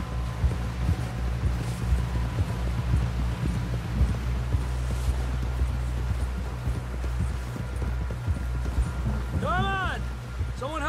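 Horse hooves drumming in a fast, steady gallop in the video game Red Dead Redemption 2, continuous and close, under game speech and background music.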